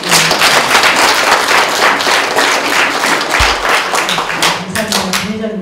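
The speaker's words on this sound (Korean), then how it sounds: "여러분들이 약간 운동이 필요하시니까 박수 좀" An audience at a Korean political forum bursts into loud, dense clapping that fills the room for several seconds, with brief voices and a thump underneath as it begins to fade.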